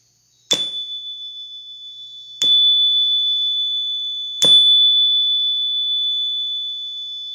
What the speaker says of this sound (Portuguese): Eu vou tocar o sininho agora.